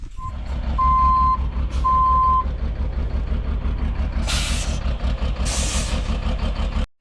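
A Kenworth C500 truck backing up, its reversing alarm beeping steadily over a rumbling diesel engine, with two bursts of air-brake hiss near the end.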